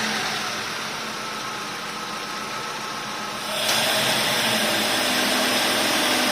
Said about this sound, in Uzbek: Mana shu holatda mashina yurgizamiz.